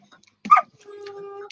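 A dog at a door gives a short yip followed by a thin, sustained whimper, close by and alone.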